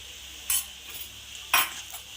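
Crushed chili and onion stir-fry in a pan for pappadam thoran, with two sharp scrapes of a spoon against the pan over a quiet, low sizzle.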